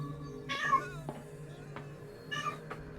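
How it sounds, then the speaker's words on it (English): A cat in the Call of Cthulhu video game meows twice, a drawn-out cry near the start and another toward the end, fairly close and clear over a quiet, low background hum. "Alright, you noisy cat, come up here."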